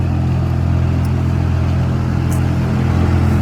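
A big old truck engine rumbling close by on a park back path, a loud, continuous low drone holding steady throughout without speech.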